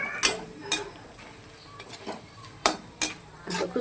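Ladoo mixture roasting in a pan, with a faint background sizzle broken by a few sharp scraping and clinking strokes of a spatula against the pan, spaced irregularly.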